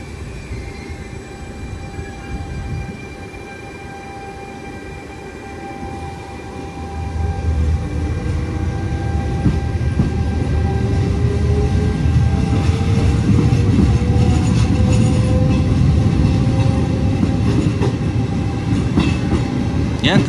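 A medium-distance Italian passenger train running on rails rumbles steadily from close by, growing louder partway through with a continuous rolling roar, faint clicks and high rail whines.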